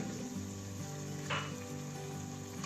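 Fresh mint leaves sautéing in a pot of mutton biryani being made in a pressure cooker, giving a steady, close sizzle and crackle of frying throughout, with no talking.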